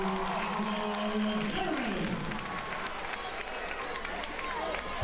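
A high school basketball crowd cheers after a dunk at the NVL championship, a sustained roar of voices and clapping heard under a commentator's talk.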